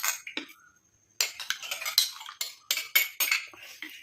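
A spoon scrapes and clinks around a bowl in quick irregular strokes, mixing ingredients with water, close by, after a short pause near the start.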